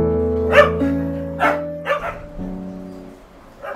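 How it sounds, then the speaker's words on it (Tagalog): Kobe the dog barks several times at close range, short loud yips and barks spaced irregularly over a steady background hum. "Etong malakas na ulit kasi kumakahol na."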